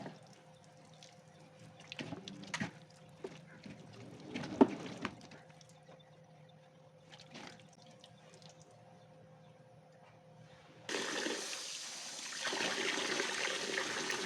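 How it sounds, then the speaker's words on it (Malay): Hands being washed under a running tap after cleaning chicken meat in a kitchen, with faint drips and clatter first, then a steady loud rush of water starting partway through and continuing to the end. "Basuh bersih tangan dahulu."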